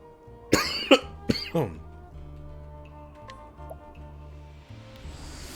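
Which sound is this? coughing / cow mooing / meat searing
coughing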